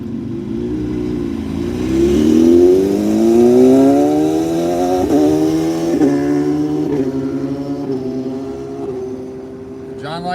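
A motorcycle engine revs on a Phoenix-area street, its pitch climbing steadily through rising gears, peaking loud, then easing and falling back while the bike pulls away.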